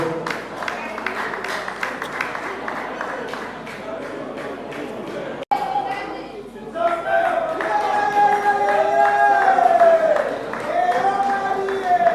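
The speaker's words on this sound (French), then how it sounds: "Applaudissons pour ce diplôme." A festival audience claps steadily for several seconds for a diploma, then the clapping breaks off and voices and tonal sounds take over.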